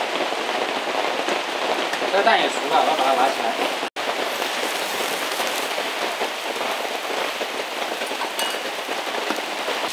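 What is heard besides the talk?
heavy rain falling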